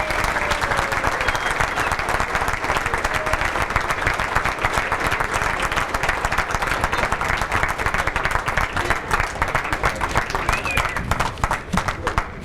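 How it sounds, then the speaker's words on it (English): Loud, continuous applause and clapping from a crowd at a high school alumni sports hall of fame dinner, dense and even for the whole stretch with faint voices mixed in. "Let's have a round of applause for Jim Lloyd."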